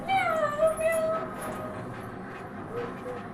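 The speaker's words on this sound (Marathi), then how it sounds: "येत आहे सगळ्यांची आवडती सगळ्यात हुशार प्राणी मांजरताई." A cat's meow in a children's story, a rising, drawn-out mew with clear harmonics near the start, followed by a softer, noisier backdrop.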